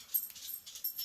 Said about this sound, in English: It sounds like a little baby puppy